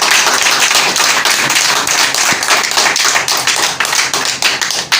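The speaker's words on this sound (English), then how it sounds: "Please give her a round of applause." Dense, sustained applause from a crowd at a Nigerian NGO event, many hands clapping steadily throughout without pause.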